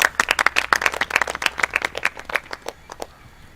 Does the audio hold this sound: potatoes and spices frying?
no